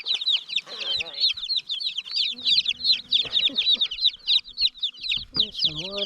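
Several newly arrived meat chicks peep continuously in a rapid, high chirping chorus close by, with brief low rustling and a short voice underneath.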